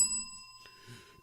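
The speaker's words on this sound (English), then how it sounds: "You got 2 bells right there, Raylene." A small bell rings with a bright, sustained ringing tone and a second lighter strike partway through, close and clear.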